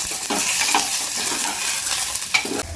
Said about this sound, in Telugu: ఇప్పుడు మిరపకాయలు వేసుకుందాం మిరపకాయలు మంచిగా వేయించుకోవాలి నూనెలో